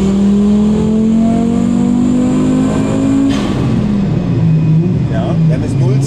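A turbocharged Audi A4 B5 accelerates hard under load, its engine note climbing steadily in a loud, close drone before a shift drops the pitch and it pulls again, with voices faintly mixed in.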